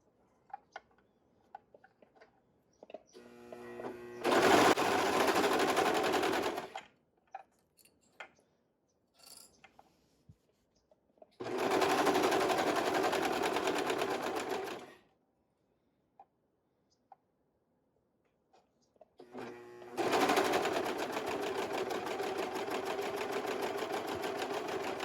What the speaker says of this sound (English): We're going to sew along this curve right here.